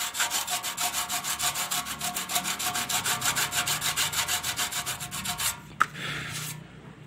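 Rapid rhythmic rubbing strokes of sanding filler over a patched leak on a tank, steady back and forth for several seconds, then a sharp knock and brief quiet.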